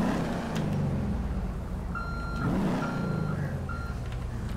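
Vehicle reversing beeps in the GTA 5 video game, a regular series of steady electronic tones repeating over a constant low engine rumble.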